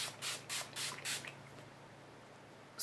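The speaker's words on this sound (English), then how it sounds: "squirt it all over your face like you would like Urban Decay's All Nighter or some other setting spray" Dermalogica Ultra Calming Mist is sprayed onto a face in four quick hissing bursts in steady rhythm, close and fairly soft, then quiet, with one more brief sound at the end.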